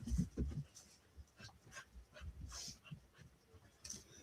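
Faint puppy whimpers and small yips come in scattered bursts amid soft panting and scuffling, quiet and close.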